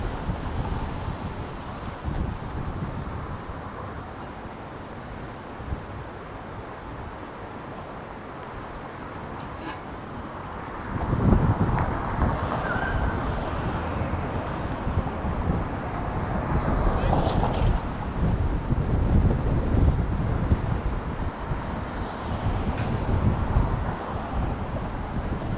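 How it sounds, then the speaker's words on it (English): Wind gusting along a downtown Toronto street in early fall, a steady low rumble against the microphone that swells stronger about halfway through, with a voice speaking over it. "Ooh, it is getting windy."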